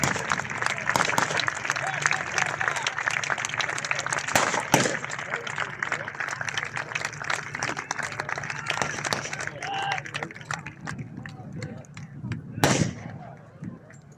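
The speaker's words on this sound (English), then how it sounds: "for all our reenactors commemorating the second battle, I think a round of applause there" An outdoor crowd at a wartime victory show applauds battle reenactors after a second-battle commemoration, a long, steady wash of clapping under an announcer's voice, with a sharp bang near the end.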